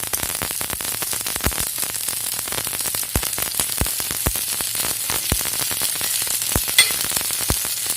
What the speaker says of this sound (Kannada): ಇದೊಂದು ಕಡೆ ಫ್ರೈ ಆಗಲಿ.